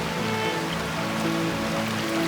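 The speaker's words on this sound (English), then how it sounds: "that little stream turns into that waterfall" A small stream pours into a waterfall, heard as a steady, even rushing of water with no break, moderately loud and unaccompanied by voices.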